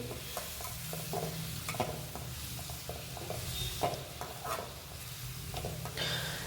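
Chopped tomatoes stirred into frying onion curry in a pan, a steady sizzle under intermittent scraping strokes of the spoon, close and moderately loud.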